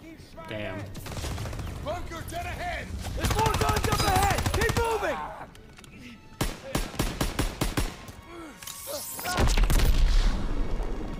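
Rapid bursts of machine-gun fire in Call of Duty WW2 on Hill 493, several staccato volleys crackling near and loud amid game noise, with voices talking over the shooting in the first half.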